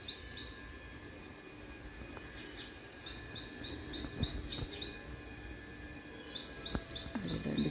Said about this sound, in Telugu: చూడండి, చెట్టు మీద ఉన్నది పిట్టలు.